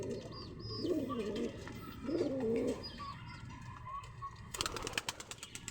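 Pigeons in a loft give soft, throaty rolling coos close by, two clear bursts and quieter ones after, then a quick flurry of flapping wings near the end.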